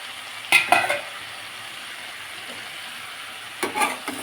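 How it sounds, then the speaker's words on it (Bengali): Spinach with lentil dumplings cooking in a pan, stirred in two short bursts of scraping near the start and end, over a faint steady sizzle. "আর একটু নাড়াচাড়া করে নিচ্ছি"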